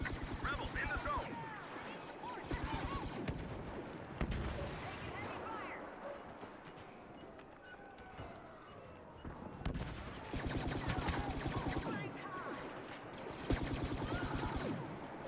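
Blaster gunfire in the Star Wars Battlefront beta comes in rapid bursts separated by short lulls, with scattered distant explosions and battle noise throughout, fairly faint overall.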